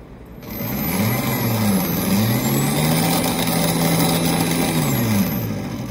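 A Bafang BBSHD mid-drive e-bike motor on an ASI BAC800 controller runs on pedal assist with field weakening, a steady loud whine whose pitch rises and falls as it spins up and down over about five seconds, close by with no talk.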